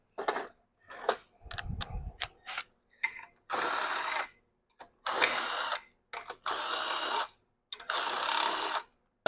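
A ratchet wrench removes tight bolts on a Rotax 582UL engine, with short bursts of rapid clicking and longer steady ratcheting runs separated by pauses, heard close up.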